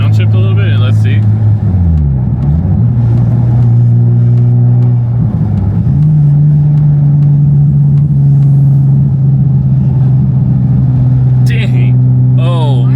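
An Infiniti G35 fitted with a Flashark racing exhaust revs and downshifts, its loud drone dipping and sweeping in pitch before holding a steady high hum, with brief bursts of people reacting near the start and end.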